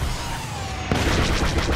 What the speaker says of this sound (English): Watch its cannons go to work.